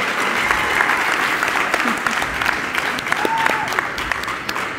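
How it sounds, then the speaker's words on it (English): Sustained crowd applause at a college ceremony, dense clapping from many hands at a steady level, with a few voices and cheers mixed in. "Let's keep that applause loud and going"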